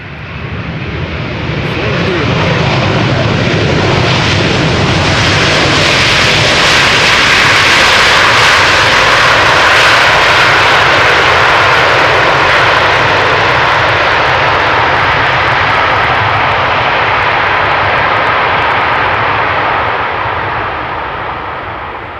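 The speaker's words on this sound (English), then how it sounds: "That is a KLM 777-200." KLM Boeing 777-200 jet arriving at Amsterdam Schiphol's Polderbaan on a hot, sunny day, a loud broad engine roar that swells to a peak midway and fades slightly as the jet passes, heard on its own.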